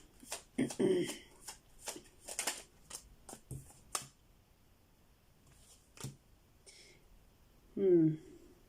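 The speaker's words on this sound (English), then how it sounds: "Let me pull more cards and see." Tarot cards are shuffled and pulled by hand: crisp, close card flicks and riffles, then a few separate snaps of single cards being drawn, with soft breaths between them.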